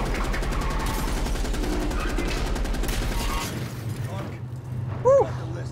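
Sustained rapid automatic gunfire in the Black Ops Cold War campaign, firing steadily for several seconds before cutting off and leaving quieter mechanical clatter and a short whistling sound near the end.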